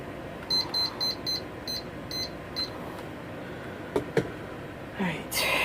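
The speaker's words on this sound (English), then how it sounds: "Timer, sorry." Kitchen timer beeping in a home kitchen while chicken cooks over medium-high heat: a run of about eight short, fairly loud electronic beeps in quick, slightly uneven rhythm, followed by a couple of clicks and some rustling.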